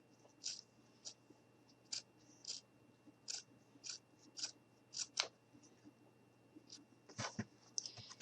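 Scissors snip around a paper template in a quiet room: about a dozen short, crisp cuts in an uneven rhythm, close to the listener, with no talking.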